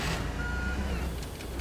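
Reversing beeps from a vehicle in the Teardown game, a steady high-pitched tone sounding over a loud, continuous engine and machinery rumble, with no talking.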